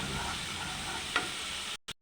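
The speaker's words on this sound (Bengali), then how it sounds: "জিরে গুঁড়ো দিয়ে দিচ্ছি, জল দিয়ে দিলাম যাতে মশলাটা পুড়ে না যায়।" Cumin powder and a splash of water hit a hot pan, producing a steady close sizzle with a brief stirring clink before the sound cuts out.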